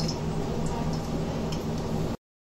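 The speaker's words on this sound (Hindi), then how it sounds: "ये ऑयल अच्छे से गर्म हो गया है तो अभी मैं इसको फ्राई कर लेती हूँ चिकन को।" Chicken pieces fry in hot oil for a restaurant-style dragon chicken dish, giving a steady, close sizzle with scattered pops and crackles that runs unbroken and then cuts off abruptly.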